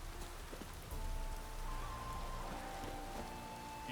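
Steady rain falls on a vineyard in The Witcher 3, a dense continuous patter on surfaces with a faint tonal hum in the background and no voices.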